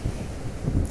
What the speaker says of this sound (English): Some nice waves crashing.